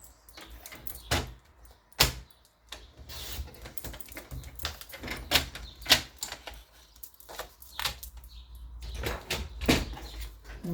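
Scrapbooking paper is cut with sharp, irregular snips and clicks at close range, mixed with handling rustles and small knocks, with no talking.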